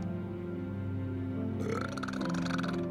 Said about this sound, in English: Oh, it was a burp.